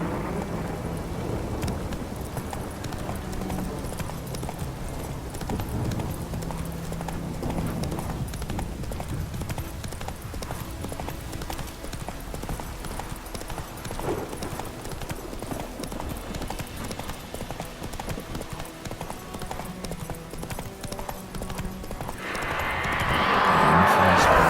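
Steady, rhythmic hoofbeats of a galloping horse in The Witcher 3, continuing throughout with ambient game sound and a whoosh of noise building near the end.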